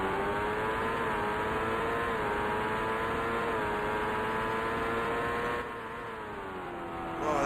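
Engines of IndyCar race cars in the video game Indycar Racing II, a 1990 CART race at Laguna Seca, whine steadily and loudly throughout with rising and falling pitch as they brake and accelerate, easing slightly near the end.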